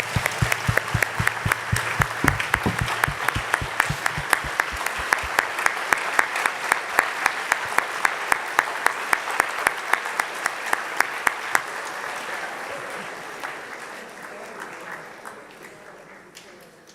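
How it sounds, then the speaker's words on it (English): Long burst of applause from a school audience standing for Holocaust survivor Stella at a remembrance day event, dense clapping with a few sharp claps on top, gradually fading toward the end. "Let's give her a round of applause."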